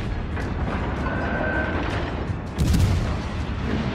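Naval gunfire from the cruiser USS Albany in World of Warships: Legends, a steady low rumble of distant cannon fire with a louder blast landing near the end.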